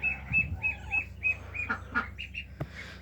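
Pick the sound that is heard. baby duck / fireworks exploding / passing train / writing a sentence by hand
baby duck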